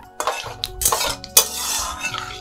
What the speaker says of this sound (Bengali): তেলের মধ্যে দিয়ে দেবো শুকনো লঙ্কা, কালো জিরে, একটু ভেজে নেবো ফোড়নটা